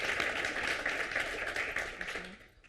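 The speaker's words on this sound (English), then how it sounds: "please, round of applause." An audience applauding after the introduction of a team's final presentation, a moderately faint, steady patter of clapping that fades out at the end.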